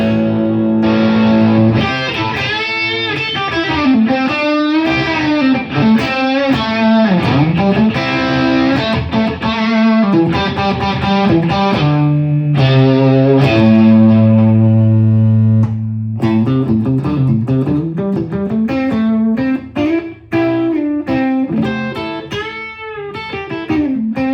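Distorted electric guitar, a Gibson Les Paul Modern with its electronics bypassed, playing a lead line with sustained bent notes and fast runs, loud and up close, no voices.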